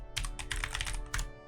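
Fast clattering keystrokes on a computer keyboard, close and distinct, in two quick runs separated by a brief pause.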